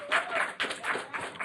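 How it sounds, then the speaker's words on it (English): An audience applauding at a hip-hop podcast's 100th episode event: a short burst of dense, close clapping in several surging waves, with no voices over it. "We want to also keep that applause going for our sponsors"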